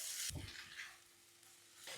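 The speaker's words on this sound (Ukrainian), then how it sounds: "Даю обсмажитися ще приблизно одну хвилинку" Soft sizzling of onion frying in a pan, quiet and steady, with a brief clatter near the start.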